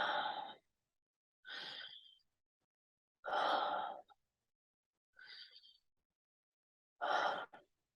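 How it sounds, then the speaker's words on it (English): Heavy, connected breaths during a guided breath-work session, five loud sighing inhales and exhales in a steady rhythm with short gaps, close and alone. "Nice interconnected breathing. There's no pause in between."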